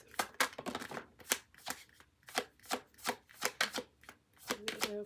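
Tarot cards shuffled by hand in quick crisp riffles and slaps, close and clear, a steady run of sharp bursts ending with a faint card draw.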